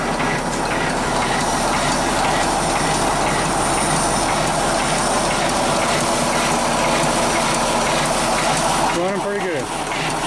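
A Leffel steam engine with exhaust piped through a welder runs steadily, a rough, dense mechanical clatter with rhythmic knocking that holds at constant loudness, while someone speaks over it.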